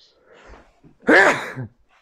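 A single sneeze bursts out close and loud after a soft intake of breath, then quiet.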